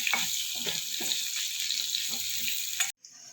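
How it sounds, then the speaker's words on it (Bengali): Potato pieces seasoned with a little turmeric and salt fry in oil in a pan, giving a steady close sizzle with soft stirring knocks before the sound cuts off abruptly. "আলুটা আমি কিছুটা ভেজে নেব"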